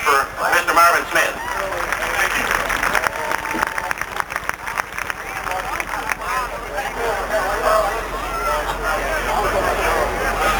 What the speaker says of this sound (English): let's have a nice round of applause for Mr. Marvin Smith